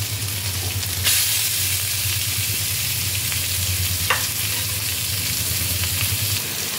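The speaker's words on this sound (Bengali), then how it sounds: "এবার মাছ দিয়ে সব কিছুকে একসাথে ভালোভাবে মিশিয়ে নেব।" Boiled fish is stirred into fried spices in a pan for Kolkata-style rui fish chop, under a continuous sizzle with a low steady hum and a couple of scraping stirs.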